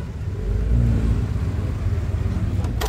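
An Alpine sports car's engine rumbles and revs steadily at close range for a few seconds, rising slightly partway through, with no talking over it.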